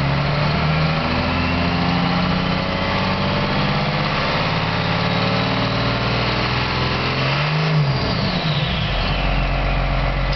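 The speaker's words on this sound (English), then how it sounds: "Let's do an onboard rev so we can hear this turbo." A 1st Gen Cummins diesel with an HX-35/40 turbo is revved from onboard, its steady engine drone rising and falling while a turbo whistle sweeps up over the top, loud and continuous.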